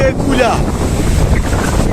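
Strong storm wind at the Kerala seaside with rain coming, a loud, rough rush buffeting the microphone, briefly under a faint voice.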